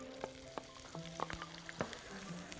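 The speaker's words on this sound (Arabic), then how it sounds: "هحط الزبدة وعايزة شوية زيت. تمام كده، بعدين ادبل بقى البصل" Onions sauté in butter and oil in a pan, a quiet steady sizzle with scattered crackles and the clink of a utensil stirring, no voices present.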